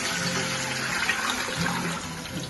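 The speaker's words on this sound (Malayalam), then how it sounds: "നന്നായി പൊരിഞ്ഞ് അതിലേക്ക് ഞാൻ ഒരു പാട്ട വെള്ളം ഒഴിക്കുന്നുണ്ട്." Water poured from a vessel into a pot of well-fried biryani masala, a steady gushing, splashing pour that runs continuously for a couple of seconds at moderate loudness, with no talking.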